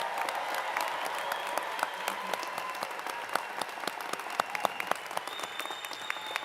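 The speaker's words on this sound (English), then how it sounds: "all these graduates with a well-deserved round of applause." An audience at a university fall commencement ceremony gives graduates a steady, dense round of applause, many hands clapping together without pause.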